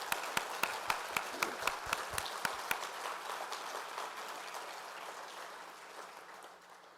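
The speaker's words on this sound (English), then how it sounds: "and that deserves a round of applause." At a fall 2013 university convocation, a few sharp, evenly spaced claps quickly swell into broad audience applause that holds steady, then slowly thins out.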